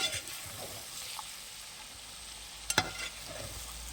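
Chicken perattu is stirred in a pan after coconut oil is poured in, giving a soft, faint sizzle under a few scraping stirs and one sharper clatter of a spoon against the pan.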